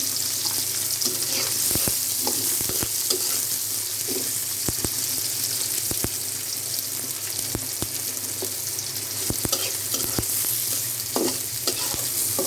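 Sliced onion frying in a small amount of oil in a pan with fish, a loud continuous sizzle broken by frequent spatula scrapes and clicks against the pan.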